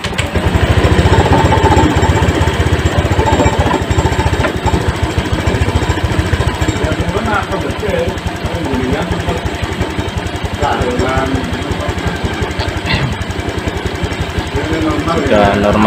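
A Honda Vario 125 injection scooter engine runs with a continuous, close, rapid putter and a steady mechanical vibration, while a person talks over the idle.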